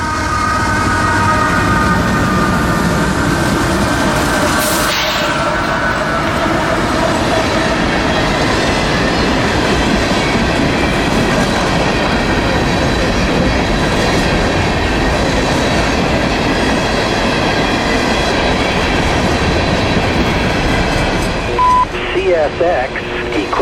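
A long CSX freight train hauled by four locomotives rumbles past close by at Folkston before dawn, wheels clicking and clattering continuously, with a faint squeal near the end.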